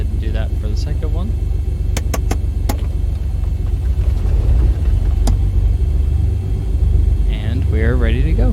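The second engine of a Beechcraft Baron 58 starting in the X-Plane 11 flight simulator: a steady low engine rumble with a few sharp clicks and whirring tones, while someone talks over it.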